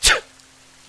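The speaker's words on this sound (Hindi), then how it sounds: "बारिश में भीगने के चलते वो छींकने लगता है।" A man drenched in rain gives a single sharp sneeze, loud and close, over in a fraction of a second and followed by near silence.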